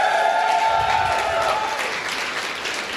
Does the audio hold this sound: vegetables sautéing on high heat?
no